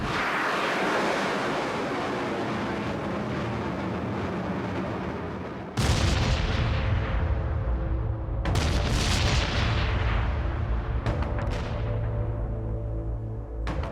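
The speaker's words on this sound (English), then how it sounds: "The first American bombardments fell on Afghanistan on October 7, 2001." American artillery bombardment in Afghanistan in 2001: a rolling roar broken by several heavy, booming explosions, each followed by a long rumbling decay.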